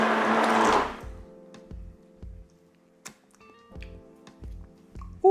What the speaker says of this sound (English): and then the stick mixer.